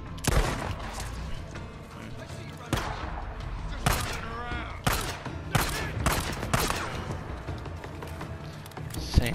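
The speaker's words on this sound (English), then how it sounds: "Who's shooting?" Bursts of gunfire from the Days Gone video game: several sharp, loud volleys spread across the span, with steady battle noise between them and some talk mixed in.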